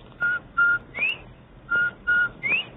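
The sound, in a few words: bobwhite whistle call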